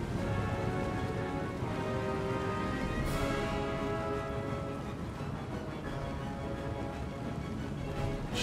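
Steady rain pours throughout an Empire: Total War battle, a dense continuous hiss with a brief sharper burst partway through and a faint low rumble of battle noise beneath.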